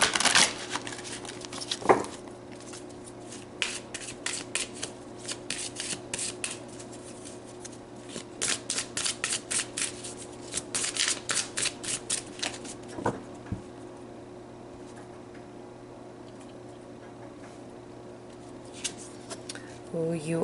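Tarot cards are shuffled in soft, papery riffles and rustles that come in bursts with short pauses, fairly quiet and close, against a faint steady hum.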